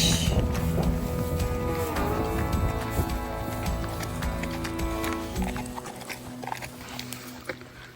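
Horses pausing during a trail ride, hooves clip-clopping in a steady walking rhythm, close and clear, with scattered knocks and light background activity throughout.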